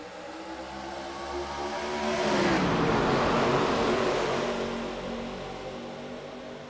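Race cars restart at Daytona in the iRacing game, their engines swelling into a loud, sustained roar that peaks mid-way as the pack accelerates past, then slowly eases off.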